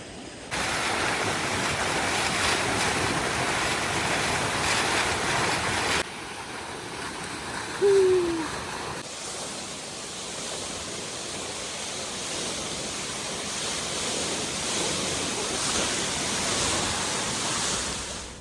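A waterfall near Manali gives a loud, steady, broad rushing roar that fills the whole stretch without pause, with one brief whistling tone partway through.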